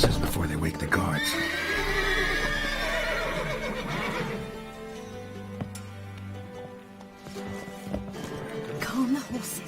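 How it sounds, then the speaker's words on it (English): Horses neigh and whinny loudly in The Witcher 3 video game, several long calls near the start and later, with hoof clip-clop and a speaking voice mixed in. "Gotta calm the horses before they wake the guards."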